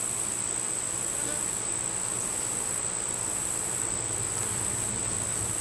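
Honey bees buzz in a dense, steady drone around an open hive during an inspection, the hum close and continuous throughout with no voices.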